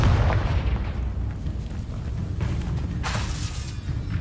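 Fiery burst from the Confringo spell cast in the game Hogwarts Legacy, a loud booming blast with crackling, shattering debris and a rumbling low tail, followed by further sharp bursts.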